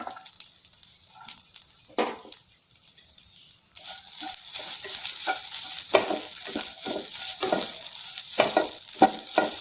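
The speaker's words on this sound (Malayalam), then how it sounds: "നമുക്കിത് മാറ്റി തേങ്ങ വറുത്തെടുക്കാം." Grated coconut roasts in a pan for beetroot chammanthi: soft scattered stirring scrapes at first, then a louder continuous sizzle with repeated spatula strokes close by.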